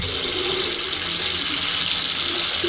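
Water runs steadily from the tap into a slow-draining hotel sink, a continuous close hiss with no talk.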